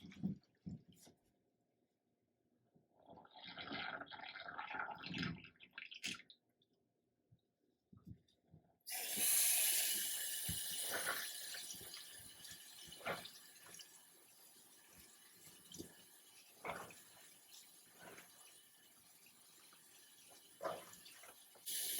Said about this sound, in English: now I go back to rinsing.